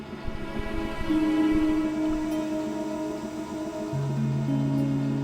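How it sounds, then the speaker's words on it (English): In the game Broken Sword: Shadow of the Templars Reforged, a train grinds to an emergency halt, with low rumbling and clatter giving way to sustained, steady screeching brake tones that shift pitch near the end. "I'd already used the brake to bring the train to a halt."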